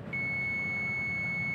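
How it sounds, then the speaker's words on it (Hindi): A multimeter's continuity buzzer gives one steady, loud beep that holds unbroken from just after the start to the end, tested across the wires of an AC blower motor. "अभी देखो आप कंटिन्यूटी का बजर बजेगा"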